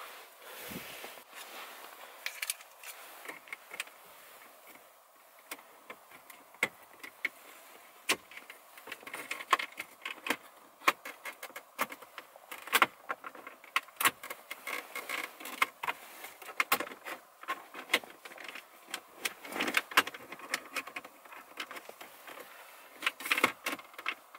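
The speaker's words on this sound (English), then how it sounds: "I'm going to put a quick trim tool around the corners and just edge it out nice and slow" Plastic trim tool prying and edging out the head unit surround in a Ford Focus ST Mk2 dashboard, giving a steady run of small clicks, creaks and plastic snaps close by, with no talking.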